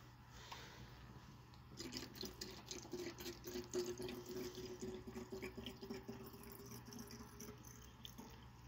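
Fresh water runs from a tap while refilling for a 3 gallon frag tank, a steady low splashing and trickling stream that is quiet and continuous, with no talking.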